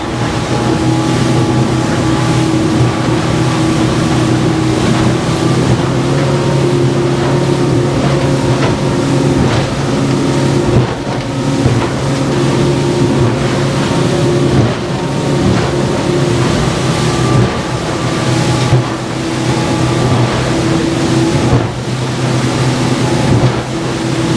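Master 770W aluminium boat cruising through light chop in open water at 4000 RPM, about 46 km/h: a steady, loud outboard engine drone with constant hull and water rush and wind, no talk, unbroken throughout.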